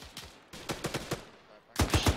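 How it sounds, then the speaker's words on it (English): Gunfire in the military shooter Arma 3, a string of sharp distant shots in uneven bursts, with a louder, closer cluster of cracks near the end. "Shots north."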